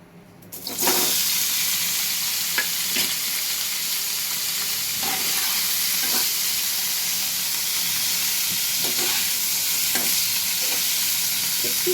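Paneer and peas for matar paneer tossed in hot oil with Kashmiri chilli, a steady sizzle with repeated scraping stirs against the pan, close and continuous, no voices.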